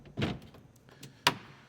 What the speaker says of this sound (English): you've got a block-off door here on your helm. Closed up nice.